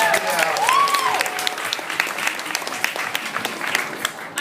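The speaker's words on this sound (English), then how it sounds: "let's give all our dads out there a round of applause" A large audience breaks into loud, sustained applause and cheering for fathers, a dense wash of clapping that holds steady throughout, with a brief whistle-like tone early on.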